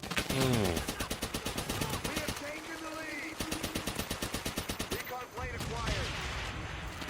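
An MP40 submachine gun fires in Call of Duty: World at War in rapid, sustained automatic bursts, one long string of shots after another, with someone talking over the gunfire.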